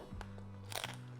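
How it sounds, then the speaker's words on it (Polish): A bite into the crispy roasted skin of an oven-cooked hanging pork knuckle gives one close, brief crunch with a short crackle, over a low steady background hum. "I ta chrupiąca skórka."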